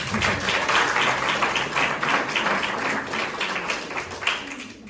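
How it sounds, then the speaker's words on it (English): Sustained applause from a seminar audience at a business masterclass, dense and steady clapping filling the room for several seconds before tapering off near the end. "Give each other a round of applause."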